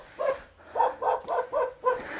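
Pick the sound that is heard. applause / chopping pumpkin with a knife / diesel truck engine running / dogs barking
dogs barking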